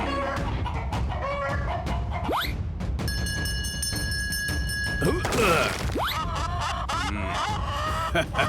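In a children's cartoon a chicken clucks in short bursts amid a busy soundtrack of cartoon effects, whooshes and a sustained electronic tone, with a brief crash in the middle.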